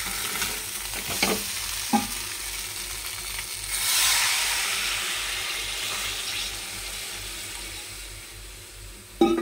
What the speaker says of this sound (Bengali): এবার জল ঢেলে দেবো